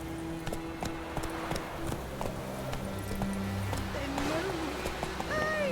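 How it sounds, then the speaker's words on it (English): Horse running in The Witcher 3, repeated hoofbeats under ongoing game dialogue and music, moderately loud with voices throughout. "Run, Roach."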